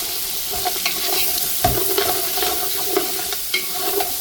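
Chicken frying together with softening onions in a pan while being stirred, a steady close sizzle with scraping stir strokes scattered throughout, and no voices.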